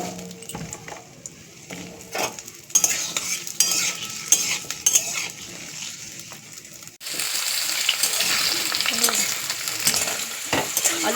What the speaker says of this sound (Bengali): আলুগুলো একটু ভেজে নেব, দিয়ে দিলাম কড়াইতে।